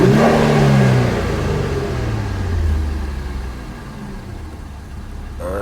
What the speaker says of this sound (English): Hear the turbo spooling.